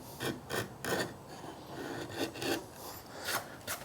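A chisel scraping along the edge of a blackwood chopping board, repeated rough rasping strokes in an uneven rhythm, each a short gritty scrape heard close up with no talking.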